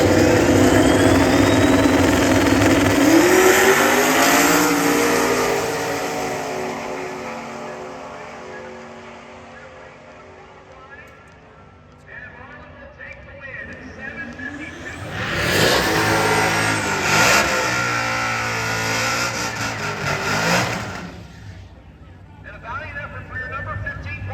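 Camaro and Mustang street cars in a drag race launch and roar down the strip, loud engine revving rising and fading, then a second surge of engine noise later, with an announcer talking over it.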